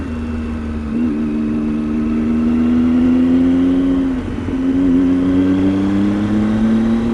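A Triumph Tiger XR XCx motorcycle engine with a loud aftermarket Arrow exhaust drones steadily close by, its pitch dipping briefly and then rising again.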